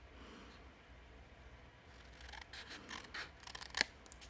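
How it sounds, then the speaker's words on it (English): Metal snips cut the ends off thin craft pieces for a hexagon box, making a few brief crisp snaps and rasps toward the end, fairly quiet against a soft background. "Just using my snips."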